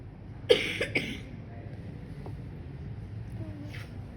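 Two or three short, close coughs come in quick succession near the start, then fade into a quiet room with faint background noise.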